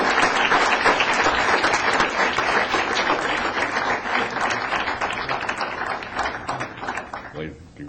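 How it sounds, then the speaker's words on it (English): A council chamber audience applauds an Employee of the Month at a city council meeting, dense steady clapping from many hands that carries on for several seconds and fades slightly at the end. "Have a big round of applause."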